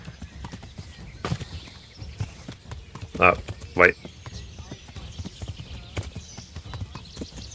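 Horse hooves clip-clop at a steady riding pace in the video game Kingdom Come: Deliverance, with two louder neighs or calls near the middle and a person talking over the ride.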